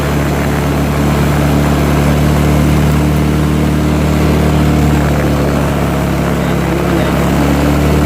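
A Yamaha Mio GT scooter engine runs at a steady idle close by, with a constant low droning hum and no change in pace, while a voice talks over it.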